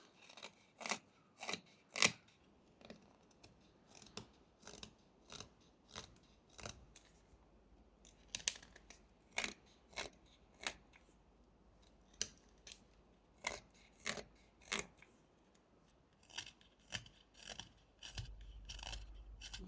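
Knife push cuts slicing chips off a small wooden chess pawn being whittled, a steady run of short sharp scraping snicks, close and fairly quiet, repeating every second or so with no talking.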